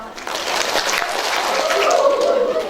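A group of mothers at a community health post session claps together in a loose rhythmic burst, fairly close and loud, with murmuring voices mixed in.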